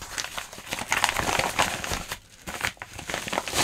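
Hands open a padded mail envelope from AliExpress, making close, busy crinkling and crumpling with brief tearing rustles and short pauses, and no talk.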